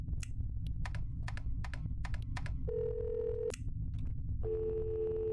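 Ringing tones of a phone call in the Roblox game That's Not My Robloxian, with two steady electronic rings under a low background hum, mixed with sharp clicks and taps like typing or mouse presses.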